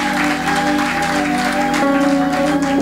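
A church congregation at a Pentecost jubilee service applauds for Jesus, steady dense clapping under sustained music, with a shift partway through.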